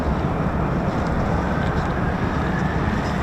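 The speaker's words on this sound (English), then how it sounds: "F-35 spooling in the distance," An F-35 fighter jet's engine spools at an airbase near RAF Lakenheath, a broad, steady roar from afar that stays even throughout with a wind-like rush and no voices.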